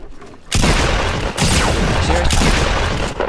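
Pump shotgun fire in a video game, a sudden loud blast followed by a second booming shot about a second later, echoing heavily with rumbling tails and no talk.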